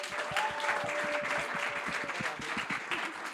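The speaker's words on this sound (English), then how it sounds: "Can we give them a round of applause?" Applause from an audience at a panel event, fairly steady clapping throughout with a faint tone and some murmuring voices beneath.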